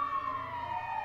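Fire truck siren, a brief steady wailing tone sliding gently downward, clear and moderately loud.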